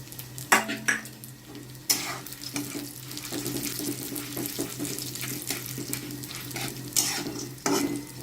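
Grated coconut is stirred and roasted in a hot pan for mint chutney, with close scraping strokes and a soft sizzle over a steady low hum.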